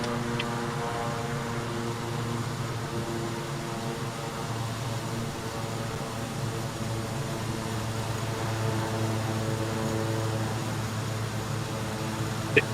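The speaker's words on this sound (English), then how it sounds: "Your throttle sounds like it's wide open." Simulated aircraft engine held at full throttle in Microsoft Flight Simulator, a steady droning hum with strong harmonic tones that runs unbroken and fairly loud throughout, with no talk.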